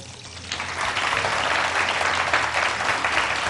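A studio audience at a Ramadan kitchen-special broadcast bursts into sustained applause, rising quickly to a dense, even clatter of many clapping hands that continues for several seconds.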